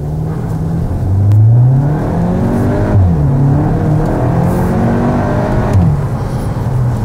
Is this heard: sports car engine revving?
yes